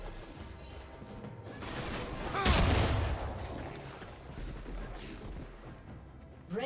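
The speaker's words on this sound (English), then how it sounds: "Red team's turret has been destroyed." A turret crumbles in a League of Legends top-lane match between Yorick and Nasus: one sharp, crashing impact with a rumbling tail rises out of busy low battle noise, then fades back.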